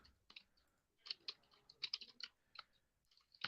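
Soft, scattered clicks of typing on a computer keyboard, quiet and close, in uneven quick bursts with brief pauses.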